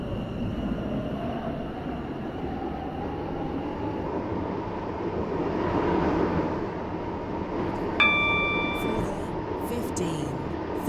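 A Stepford Connect train in a video game runs steadily with a continuous low rumble and hum throughout, swelling slightly midway, with a brief chime-like tone near the end.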